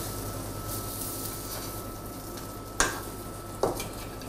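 Low sizzle of scamorza cheese searing in a dry pan without oil, with two sharp clinks of a utensil against the pan near the end; no speech.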